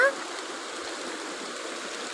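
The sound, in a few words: light rain falling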